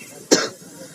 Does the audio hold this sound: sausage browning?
no